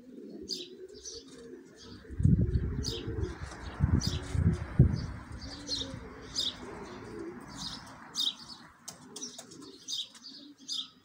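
A pigeon coos in low, rolling, repeated phrases close by, with brief bursts of wing flapping and steady high chirps from smaller birds in the background.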